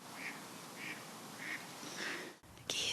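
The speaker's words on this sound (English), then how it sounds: "Geese." Geese honking in a series of four evenly spaced calls, fairly loud over a steady outdoor hiss, before the sound cuts off abruptly.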